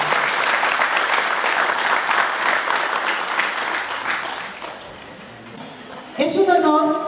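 Steady, full applause from a school audience at a high school ceremony honoring the outgoing and incoming parents' committee, sustained for several seconds and fading, then a louder burst of music or sound at the end.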